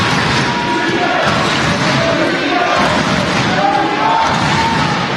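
A dense crowd roars steadily throughout a high school basketball semifinal, loud and continuous with shouts rising from the stands and an announcer's voice mixed underneath.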